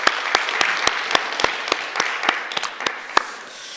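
A church congregation claps together after a baptism service, a dense wash of applause with sharp individual claps standing out, steady for several seconds before easing off.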